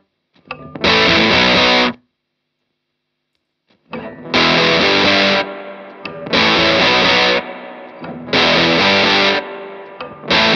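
Heavily fuzzed electric guitar through a Fallout fuzz pedal plays loud, chunky bursts of chords separated by short silences, with a thick, buzzy saturated tone.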